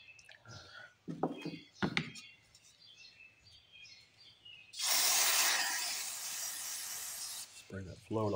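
Carb cleaner sprays onto the carburetor of a 1978 Lawn-Boy mower, a sharp, bright aerosol hiss lasting a few seconds, with quiet talk before and after the burst.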